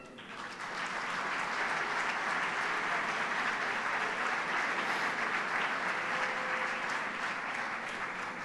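An audience at a Galician motorsport federation awards gala applauds the organisers in a long, even burst of clapping that fills the hall, heard from a moderate distance and fading slightly at the close.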